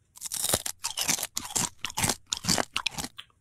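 Cereal flakes crunch loudly and up close in a run of chewing bursts, each crisp crackle separated by short pauses, with no talking.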